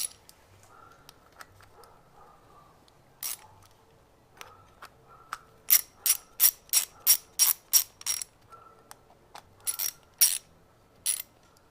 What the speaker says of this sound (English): Tighten this clamp up.